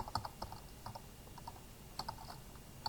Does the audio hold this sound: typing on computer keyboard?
yes